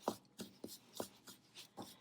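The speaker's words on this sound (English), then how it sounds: "The next thing I'll do is take my spoon and begin mixing." A spoon scrapes and stirs salt dough in a bowl with soft, rhythmic rasping strokes, roughly three per second, quiet and close.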